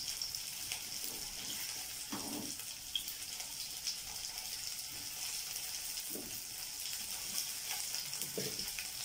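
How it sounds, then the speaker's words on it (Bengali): Cauliflower florets for gobi manchurian fry crisp in hot oil, a faint, steady sizzle with a few soft stirring clinks and scrapes, no voices. "তো বন্ধুরা আমার এইটা ভাজাটা হয়ে গেছে মোটামুটি ক্রিস্পি করে।"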